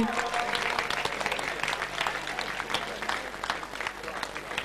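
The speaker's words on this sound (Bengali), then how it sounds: "জোরে একটা হাততালি দেব আমরা সবাই।" An audience at a Shaheen school grand reunion event breaks into sustained, dense applause, a steady wash of many hands clapping together for several seconds without letting up.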